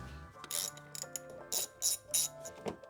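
A hand ratchet works 10mm nuts loose on the engine cover of a supercharged Range Rover L322, giving sharp, close clicking bursts in quick irregular runs, with no talk.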